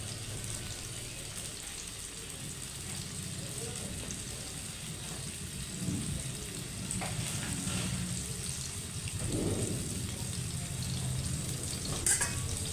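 Embutido fries in a pan with a steady, close sizzle and crackle that swells slightly toward the end, with some faint stirring and background noise.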